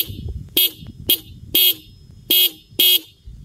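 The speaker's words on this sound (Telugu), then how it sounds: "హార్న్ సౌండ్ కూడా లౌడ్గా ఉంటుంది" The dual front horns of a Bajaj Pulsar 220F motorcycle sound five short, loud blasts in an uneven rhythm, close by, separated by quiet gaps.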